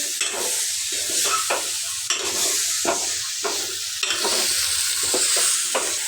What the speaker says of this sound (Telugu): చికెన్ వేసి కలపాలి.